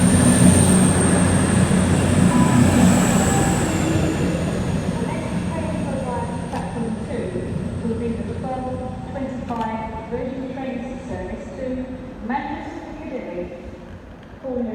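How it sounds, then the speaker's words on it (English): A Virgin Trains nine-coach train moves through Stoke-on-Trent station, a loud rumbling roll with rail clatter that slowly fades, while someone talks over it throughout. "So we'll manage a Virgin Trains livery. This train is full of 9 coaches."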